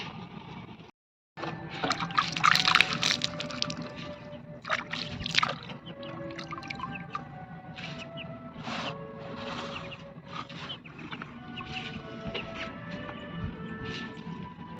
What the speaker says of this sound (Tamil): இப்போ தண்ணியில் கழுவிக்கலாம்.